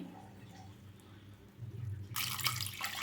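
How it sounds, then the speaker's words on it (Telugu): Water pours steadily into a metal pressure cooker, about two glasses' worth, the splashing growing louder and brighter partway through, with no voices. "ఇదిగో ఒక గ్లాసు చూడండి రెండు గ్లాసులు అయితే వాటర్ పోసాను"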